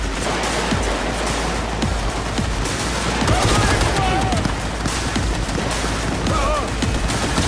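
Cyberpunk 2077 firefight with steady, overlapping gunfire crackling nonstop, loud and busy, mixed with game sounds and voices shouting during the battle.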